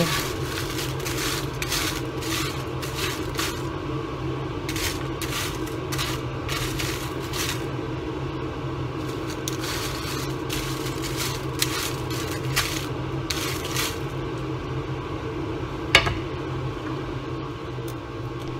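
Lemon leaves are turned back and forth in a hot, dry pan, giving a steady crackling hiss with repeated light scraping and rustling strokes at close range.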